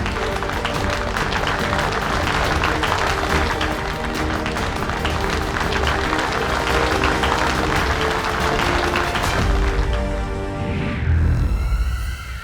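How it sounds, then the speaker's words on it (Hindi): Loud, dense applause from a crowd cheering a brave boy in a Baalveer fantasy TV drama, steady for about ten seconds with a musical sting rising near the end. "इसी बात पे शूरवीर विवान के लिए जोरदार तालियां"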